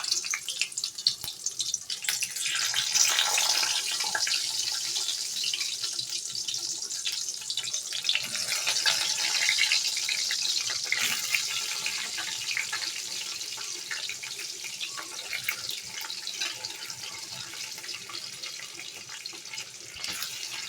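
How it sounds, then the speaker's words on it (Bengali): Flat beans (shim) fry in oil seasoned with black cumin, giving a steady, dense sizzling hiss that runs unbroken for the whole stretch with no talking. "এবার আমি তেলের মধ্যে শিমগুলো দিয়ে দেব। ভালো করে আমি শিমগুলো ভাজবো।"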